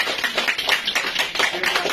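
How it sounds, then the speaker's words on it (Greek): Applause from an audience at a gathering in the Vamvakareio institution in Acharnes, a steady patter of many hands clapping at moderate loudness with no one speaking over it. "Να τους δώσουμε ένα χειροκρότημα."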